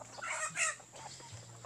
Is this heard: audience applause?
no